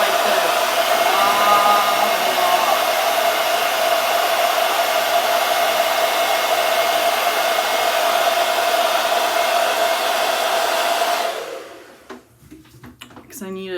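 Hair dryer blowing over eyeshadow on a face during a makeup routine: a loud, continuous whooshing roar held steadily for about eleven seconds before switching off, with someone speaking quietly afterward.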